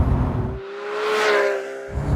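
A Porsche 991.2 GT3 with a 4-litre direct-injection flat-six making 500 horsepower, driven with a manual gearbox, revs in one smooth rising and falling sweep, loud and close, with no talking.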